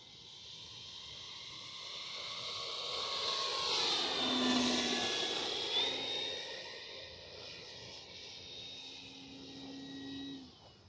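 A Flightline F4U Corsair 1600mm electric RC model airplane flies past outdoors, its motor whine rising and falling in pitch as it approaches, passes close overhead and drifts away over about ten seconds.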